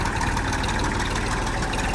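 A Massey tractor engine idles steadily, a low continuous rumble and chug with no voices.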